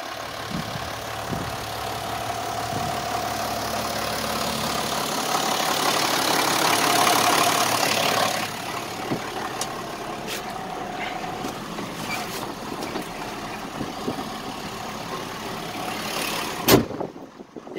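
Steady diesel engine idle of a John Deere 7515 tractor heard from inside the cab during field harrowing, a continuous low rumble that swells slightly midway, with a few faint clicks and a sharp knock near the end.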